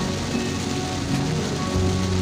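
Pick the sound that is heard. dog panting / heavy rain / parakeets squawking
heavy rain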